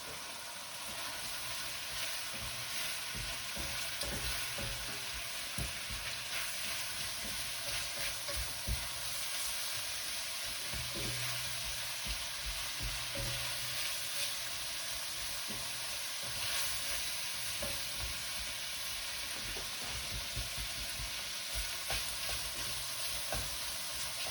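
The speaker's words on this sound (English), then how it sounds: "So now we have the sausage and bacon in the pan together" Steady, faint sizzling of sausage and bacon frying together in a pan, with a constant crackle and occasional soft scrapes of stirring, no voices.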